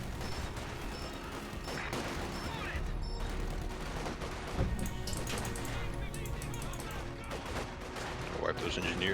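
Machine gun bursts and scattered gunfire from the Company of Heroes 2 World War II strategy game, a dense crackling fusillade under continuous battle noise, with players talking over it.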